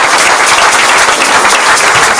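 A church congregation breaks into loud, enthusiastic applause during a prayer service, a thick continuous roar of many hands clapping at close range.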